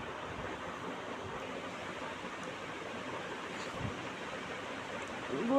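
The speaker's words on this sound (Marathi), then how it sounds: "नळाचं पाणीसुद्धा छान असं उकळते आहे" Tap water boiling in a pot on the stove gives a steady, dense hiss of bubbling, even and unbroken throughout, with no voices.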